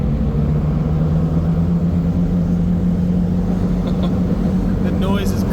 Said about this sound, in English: I'm shifting into second gear.